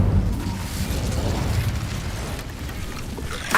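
An Incendio fire spell erupting in the video game Hogwarts Legacy, a loud rumbling whoosh of flame that holds steady for a few seconds and ends with a sharper burst.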